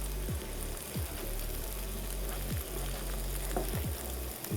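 Marinated qeema sizzles and fries with onions in a pan, a steady crackling hiss broken by a few soft scraping stirs, close and continuous with no talk.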